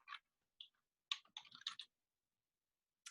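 Short bursts of key presses on a computer keyboard, several quick clustered clicks separated by brief pauses, crisp and close with no voices.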